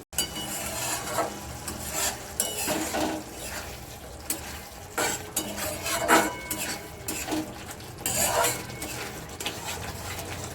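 A spice paste for a rohu fish dish, salted and sweetened with sugar, is stirred and sautéed in a pan, giving repeated scraping, rubbing strokes of a spoon against the metal in uneven bursts.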